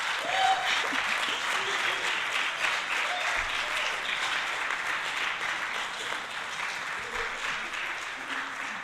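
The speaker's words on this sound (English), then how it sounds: "My HP Plus colleagues, can you stand up? We need a clap." An audience at a project event in Lilongwe, Malawi gives sustained, steady clapping that holds at an even level throughout, with a few voices faintly audible underneath.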